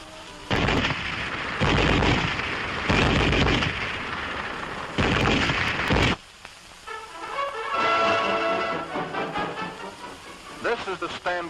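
German MG-34 7.92mm machine gun firing in loud sustained bursts, several rapid strings separated by short pauses, followed by quieter clattering and voices afterward.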